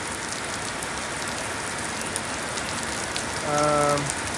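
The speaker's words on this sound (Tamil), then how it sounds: "இப்போ ரொம்ப நல்லா மழை பெஞ்சிட்ருக்கு." Heavy rain pours steadily on outdoor surfaces in a continuous dense hiss, with a brief tonal hum rising near the end.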